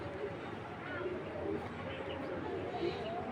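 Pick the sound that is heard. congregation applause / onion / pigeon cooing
pigeon cooing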